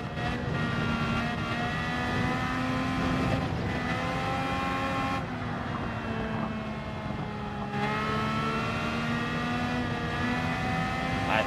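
A race car engine in Gran Turismo 7 during Nations Round 2 final practice drones and revs continuously, with gear changes and lifts shifting the pitch, sustained and fairly loud with no talk over it.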